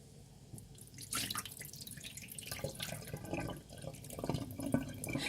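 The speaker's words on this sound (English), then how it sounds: "wash the peas, give it a good wash" Red kidney beans are washed in a bowl of cold water, with soft sloshing, trickling and dripping splashes that come in uneven bursts, fairly quiet and close, with no talking.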